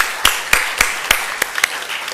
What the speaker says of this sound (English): Let's give them once again a big round of applause.